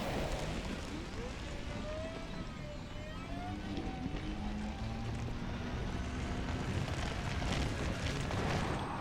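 A ship in the Elite Dangerous game flies low over rocky terrain while digging for selenium, its engine a steady loud rumbling roar with shifting whines throughout.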